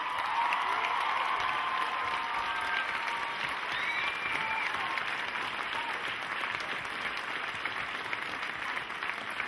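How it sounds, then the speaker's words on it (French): A large audience at a live stage show claps steadily and loudly, with a few cheers and whistles rising above the dense applause. "on peut les applaudir très très très très très très fort"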